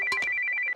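A mobile phone rings indoors at night with a bright electronic ringtone of rapid pulsed tones on one high pitch, and a short chime opens the pattern before it cuts off.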